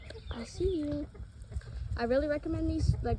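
Backyard chickens, including a silver laced Wyandotte hen, give short warbling clucks and murmuring calls close by in a couple of brief bursts.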